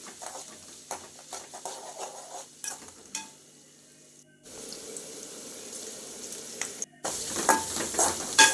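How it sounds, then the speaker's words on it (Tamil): Turmeric powder and chana dal sautéing in oil for a home-style sambar, with soft sizzling and stirring scrapes that stop briefly mid-way, then return louder and closer near the end. "மஞ்சத்தூளையும் எண்ணெயிலேயே போட்டு வதக்கினா தான் நல்லா வந்து வாசனையாக இருக்கும்"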